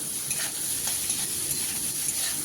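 Onion, tomato and spices frying in a pan for a chickpea curry, a steady soft sizzle with faint stirring scrapes, quiet and continuous with no voices.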